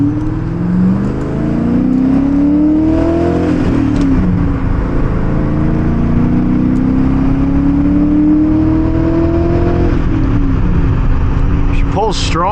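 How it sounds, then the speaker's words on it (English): A BMW M5 with a 5.0L V8 and a slipping clutch accelerates hard through the gears toward redline, the engine note rising loud and close over several pulls with brief drops at each shift. "She pulls strong all the way to Redline though."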